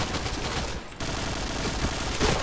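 An AUG A3 Samurai rifle fires rapid, continuous automatic bursts in the shooter game Point Blank, dense and loud, with one short gap partway through.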